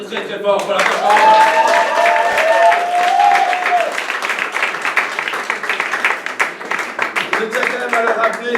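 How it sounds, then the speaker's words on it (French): An audience applauds loudly after an improv theatre performance, a dense sustained wash of clapping close up, with voices and cheers mixed in over it. "Alors on peut applaudir très très fort pour la performance."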